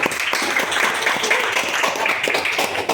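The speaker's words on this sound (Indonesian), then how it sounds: "Ya kasih tepuk tangan ini untuk kelompok 3" A classroom gives a student group a round of applause: dense, steady clapping from many hands fills the room throughout, close and fairly loud.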